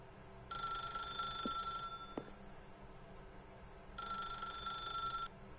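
Telephone ringing in the video game The Stanley Parable: two electronic ring bursts, each over a second long, separated by a pause and set against a quiet ambient hum.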